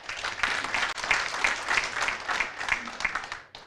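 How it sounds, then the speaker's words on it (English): An audience at a forum in Kigali applauds its panelists, a dense burst of many hands clapping at once that swells, holds steady and then fades out quickly. "please give a hand of applause to my esteemed panelists"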